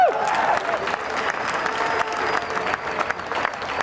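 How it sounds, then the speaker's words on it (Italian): Audience applause for a musician at a concert, steady continuous clapping from a crowd, fairly close and even throughout, with no voices on top. "un applauso perché ha appena avuto un figlio."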